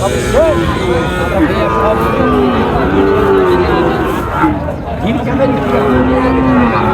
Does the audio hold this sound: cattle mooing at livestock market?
yes